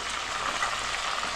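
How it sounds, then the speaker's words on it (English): Fish frying in a pan gives a steady, even sizzle, a close continuous crackling hiss with no breaks and no voices over it. "and I'm now finishing on frying the fish"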